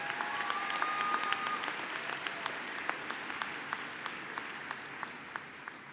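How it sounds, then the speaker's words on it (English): A commencement audience applauds, a dense wash of many hands clapping that starts full and slowly thins and softens over several seconds, heard from within a large crowd. "Can we give them a moment a round of applause?"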